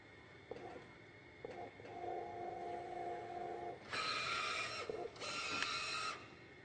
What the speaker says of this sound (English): Press OK twice to begin printing a nozzle check pattern.